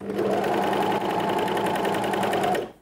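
An overlocker (serger) runs steadily for nearly three seconds, stitching elastic onto swimsuit fabric, a fast, even mechanical whir that stops abruptly at the end.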